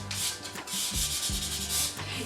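Fine sandpaper scuffs a metal thermos surface in quick back-and-forth strokes, a continuous close rasping hiss with brief rhythmic pulses and no speech.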